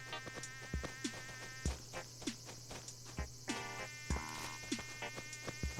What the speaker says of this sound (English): That's a large brown cicada